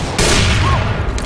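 Gunfire in a first-person shooter with an AWP sniper rifle in play, a loud, dense burst of overlapping shots and booms packed into about a second, close and alone without talk.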